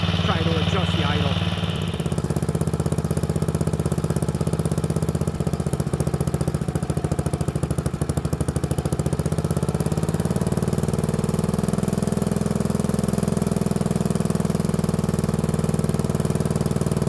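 A 1955 Wheel Horse Senior garden tractor with a Wisconsin AEN engine idles steadily and loudly up close, a continuous low chugging drone that holds throughout.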